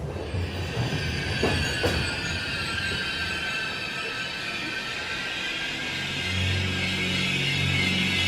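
A train pulls into a station with a loud, steady rolling rumble, a sustained high metallic squeal from the wheels and a couple of brief clanks near the start.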